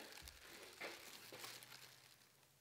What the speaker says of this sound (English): I just take a plastic bag